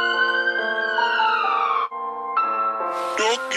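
A wailing ambulance siren sweeps and shifts in pitch, loud and continuous, with a brief break before it resumes in a higher, harsher tone.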